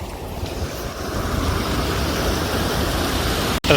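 A strong current rushes through a village stream, a steady broadband wash of flowing water that stays loud and constant throughout, with a brief dropout near the end.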